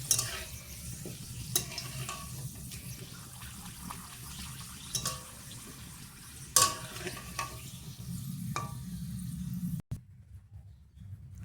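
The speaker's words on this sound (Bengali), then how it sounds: "একে একে পাঁপড়গুলো ভেজে নেব।" Steady frying hiss and bubbling of papads in hot white oil in a kadai, with occasional sharp crackles and clinks, continuing for several seconds before cutting off near the end.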